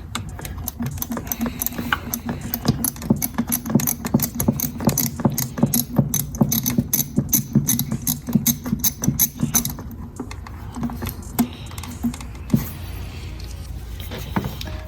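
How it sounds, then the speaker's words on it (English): A ratchet fitted with a 6mm socket works on a 1999 BMW 328i E46 during coolant hose replacement, giving rapid, dense mechanical clicking close by for about ten seconds, then sparser clicks and knocks. "I'm just using a 6mm socket for this part."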